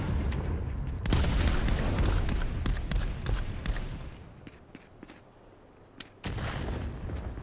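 Dense gunfire and bursts from the VR shooter game Contractors during a competitive esports match, sustained loud volleys that thin out briefly, then a sharp shot and a renewed heavy burst.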